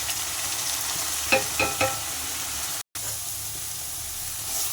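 Oil sizzles steadily in a pan while a utensil stirs chili powder through it for bitter gourd curry, with a few soft scraping strokes early on and a brief dropout midway.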